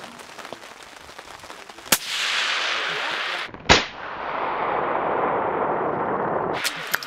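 Rifle shots fired at a 400 metre target through a Sightmark Presidio 3-18x50 scope in light rain, two sharp loud reports a couple of seconds apart, each followed by a long rushing roll of echo.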